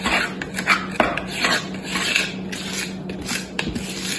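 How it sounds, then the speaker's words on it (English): A spatula scrapes thick chocolate cake batter into a baking pan, making repeated soft rasping strokes and light clinks against the bowl and pan, close up with no talking. "You might need another knife or spatula just to scrape it off from this spatula."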